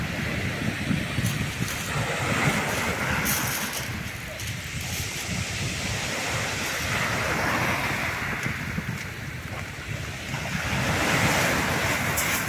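Gentle sea waves breaking on the Sea of Okhotsk shore during a crab and flounder fishing trip, rolling surges rising and falling every few seconds under steady wind buffeting the microphone, loud and close.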